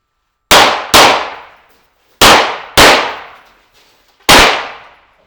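Five loud, sharp handgun shots ring out on a backup-gun shooting match stage, fired in two quick pairs and then a single shot after a gap. Each crack decays quickly, with no voices.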